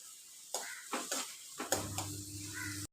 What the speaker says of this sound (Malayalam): ചുവന്നുള്ളി നല്ല നിറം മാറുന്നത് വരെ വഴറ്റുക.